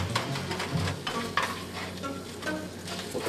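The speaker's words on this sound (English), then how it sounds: "So we're just gonna stir that up." Scrambled eggs stirred in a hot pan, a steady crackling sizzle of frying with repeated scraping and stirring strokes of a utensil across the pan, close and fairly loud, no voice heard.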